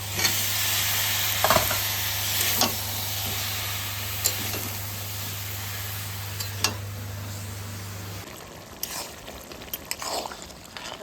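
Goat meat and jackfruit fry in a pan with a steady loud sizzle, broken by intermittent scraping clicks as a spoon stirs the mixture.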